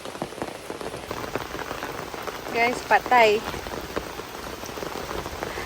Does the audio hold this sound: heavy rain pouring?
yes